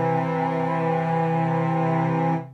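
A sustained major-third dyad, two pitches in a 5:4 frequency ratio, humming steadily and evenly for a couple of seconds before stopping abruptly, clear and close with nothing else audible.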